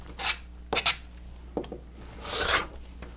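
Quilt fabric block corners being trimmed with a cutter along a ruler, a few short scraping cuts followed by a longer rasping slice, close and moderately quiet over a faint steady hum.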